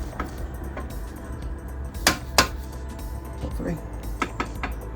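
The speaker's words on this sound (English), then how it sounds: "Give that a little tap with a crowbar and a hammer." A hammer strikes a crowbar against a rear trailing arm bolt on a London black cab during a Polybush bush upgrade, giving a few sharp, separate metallic taps over a low background hum.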